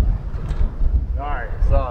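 Wind buffets the microphone on the Sanctuary Ridge golf course, a loud gusty rumble under brief talk from a man.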